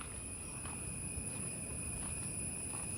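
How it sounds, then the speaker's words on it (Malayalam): Crickets chirp in a steady, continuous drone near an ancient cave temple, with a faint outdoor hush underneath and no other sounds. "ചീവീടിൻ്റെ ശബ്ദം മാത്രമേ ഇവിടെ കേൾക്കാൻ പറ്റുന്നുള്ളൂ"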